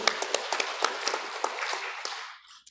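Congregation applause during an award presentation at a Won Buddhist temple service, a brisk round of clapping with some sharp individual claps, dying away near the end.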